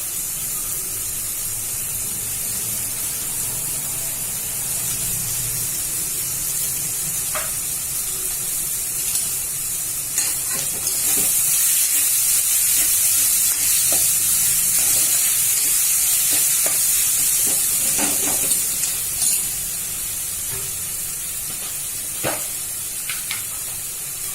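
Onions and two boiled potatoes cook in a pan with a constant close sizzle and frying hiss, joined by occasional stirring scrapes and taps throughout.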